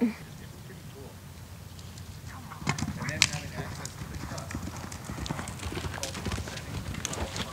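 A horse cantering in a show-jumping lesson, its hooves striking the ground in a steady, rhythmic clip-clop at close range, with a trainer's voice speaking over the footfalls.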